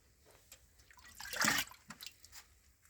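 A liquid mixture for a natural-farming seed treatment is poured into a litre of water, producing one brief, close splashing pour midway through an otherwise quiet stretch.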